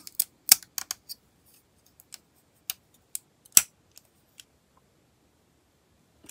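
Sharp, dry plastic clicks from the adjustable joints of a Cowboy Bebop Swordfish II model sound in scattered bursts, some in quick doubles, separated by near silence, close and fairly faint.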